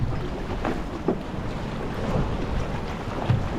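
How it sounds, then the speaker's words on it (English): Ocean waves breaking around a boat anchored at a bouncy fishing spot, heard as a rumbling wash of wind and water with occasional soft knocks, with no talking. "The waves are breaking across the top here."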